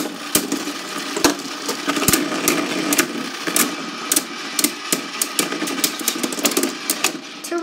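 Beyblade spinning tops, including Turbo Valtryek and Dread Hades, launched into a stadium battle, giving a steady whirring rattle broken by frequent sharp clicks and clacks as the tops collide, close and fairly loud, with no talking.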